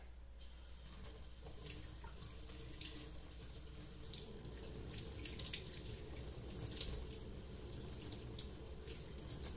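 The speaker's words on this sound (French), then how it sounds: "On ne laisse pas trop couler l'eau." Kitchen tap water runs steadily into a sink while makeup brushes are rinsed, a continuous close hiss of flowing water with light splashes and no talking.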